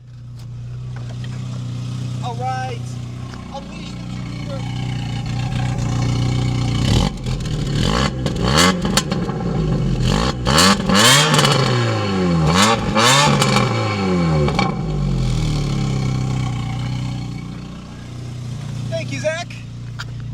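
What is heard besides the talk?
VW Golf GTI engine revving at exhaust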